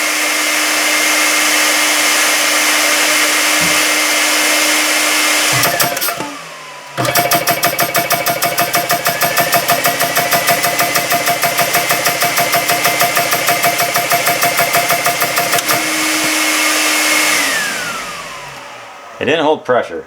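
A GX CS2 air compressor for PCP air guns runs close by, a steady motor drone joined from about seven to sixteen seconds by a loud, rapid pumping rattle, then settling back to a hum before cutting off.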